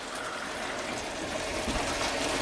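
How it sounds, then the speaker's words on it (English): Water poured from a can into a pot of fideo vermicelli noodles on the boil, a steady close gushing and splashing stream that runs without a break for a couple of seconds. "I am going to add another half a can of water"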